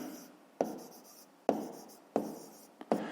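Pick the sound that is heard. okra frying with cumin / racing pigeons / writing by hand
writing by hand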